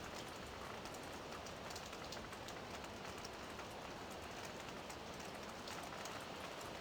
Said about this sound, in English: Shouldn't be raining inside the buildings.